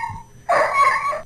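A dog barks in a room during a phone call, a short loud yelp cutting in after a brief quiet moment, close to the phone.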